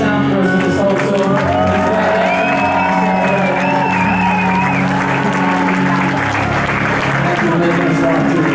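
A concert crowd at a Zürich club claps, cheers and whoops loudly without a break. A raised voice carries over the continuous roar of applause.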